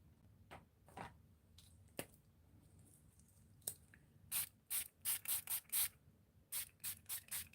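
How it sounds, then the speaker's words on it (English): Homemade sprays misted over a paper stencil, heard as a quick series of close, short hissing spritzes in bursts, preceded by a few soft taps and rustles. "I'm using the sprays and covering all the stencil."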